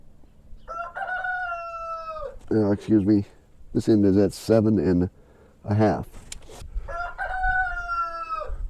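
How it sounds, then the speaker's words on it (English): A rooster crows loudly and close by several times near a Woodmizer LT35 portable sawmill cutting burr oak slabs, with a person speaking briefly in between the crows. "That rooster's going to make some good soup."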